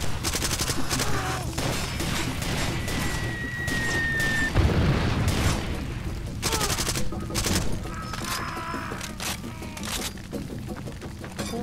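Dense gunfire from Far Cry 2: rapid volleys of shots and bursts keep going throughout, close and loud, with occasional heavier booms. Short voice fragments come through in places.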